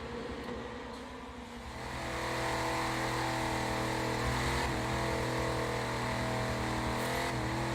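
Race car engines in Forza 7 idle at the grid and then swell into a loud, steady revving drone with layered harmonic whine, building after a quieter opening and holding through to the end.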